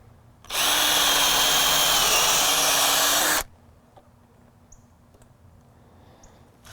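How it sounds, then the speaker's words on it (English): A power drill boring pilot holes for decking screws on a DIY jet ski dolly runs in one loud, steady whine for about three seconds, then stops, followed by faint clicks and quiet. "We'll switch out that 5/8 bit to a drill bit that will drill the pilot holes for our decking"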